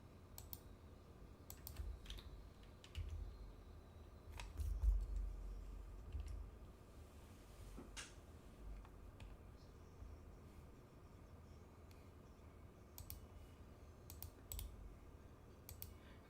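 Computer keyboard typing during play of Stanley Parable Ultra Deluxe on PS5, faint irregular clicks and taps in small bursts with pauses, one louder thump midway, over a quiet room hum.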